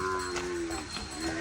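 A buffalo lets out a low, drawn-out moo close by, one sustained call lasting the whole moment with faint background noise.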